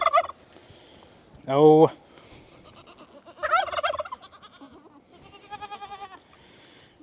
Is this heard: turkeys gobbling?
yes